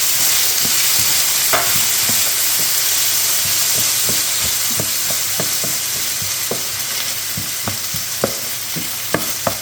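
Shrimp and onion fry in a hot pan with a loud, continuous sizzle and hiss, broken by frequent clicks and scrapes as the food is stirred and moved around, with no one talking.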